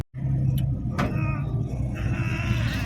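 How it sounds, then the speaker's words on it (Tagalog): Steady rumbling road traffic from many cars, heard from inside a moving vehicle in Pampanga, a continuous low drone with engine hum and passing swells, loud and close with no talk. "Ang daming sasakyan pa."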